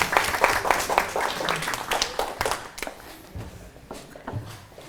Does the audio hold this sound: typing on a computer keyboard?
no